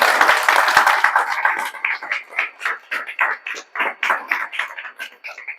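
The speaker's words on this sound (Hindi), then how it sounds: "इसके लिए जोरदार ताली आप लोग बजा दीजिए।" Audience clapping for high-scoring students at a JEE Main results celebration: a dense, loud round of applause that thins into scattered, rhythmic claps toward the end.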